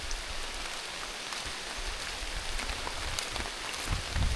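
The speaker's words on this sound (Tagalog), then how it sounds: "Grabe, naabutan kami dito ng malakas na ulan" Heavy rain pours steadily on a muddy mountain trail, a dense, even hiss close around with no voices.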